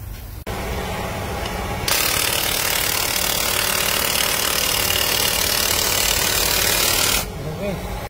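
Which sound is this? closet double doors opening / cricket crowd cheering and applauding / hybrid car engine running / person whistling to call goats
hybrid car engine running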